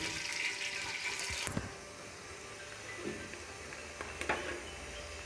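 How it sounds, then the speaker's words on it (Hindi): Chopped medium-sized onions frying in a pot for chicken pulao, giving a steady hiss and sizzle that flares with a brief stirring clatter near the start, then settles to a quieter crackle. "अब हम इसमें अपने 2 अदद जो हमने प्याज काट कर रखे थे दरमियाने साइज के वो डालेंगे और इनको गोल्डन ब्राउन करेंगे।"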